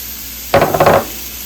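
A blue fish pot with natural seasoning gets stirred once, a close half-second burst of scraping and bubbling sizzle that stands alone between stretches of quiet.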